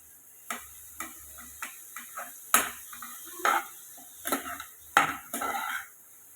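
Mushrooms frying in a pan, a faint sizzle under scattered clinks and scrapes of a spoon against the pan, irregular taps spread across the moment, close and fairly quiet with no talking.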